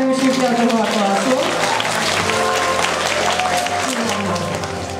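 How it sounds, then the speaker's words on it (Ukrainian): Hall audience at a school class event applauding the class teacher and fifth-grade pupils, a sustained loud clatter of many hands heard together with a tonal musical or vocal sound. "давайте підтримаємо оплесками класного керівника і учнів 5-го класу"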